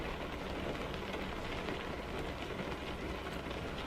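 Rain falling in American Truck Simulator, a dense, steady hiss of downpour with a low rumble underneath, constant and moderately quiet throughout.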